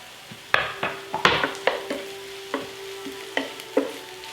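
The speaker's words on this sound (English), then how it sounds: "At this time I'm going to add my garlic." Chopped garlic, about three cloves, added to onions frying in a pan, with a soft steady sizzle punctuated by a run of sharp utensil scrapes and clinks as it is stirred at close range.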